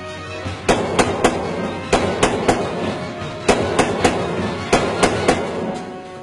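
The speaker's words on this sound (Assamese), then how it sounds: "শূন্যলৈ বুলি তেওঁলোকে এৰিছে ধাৰাসাৰ গুলী" Heavy automatic gunfire from modern weapons fired into the air by NDFB militants in Kokrajar, Assam, crackling in loud, sharp bursts of several shots each, separated by short pauses, over a rumbling background.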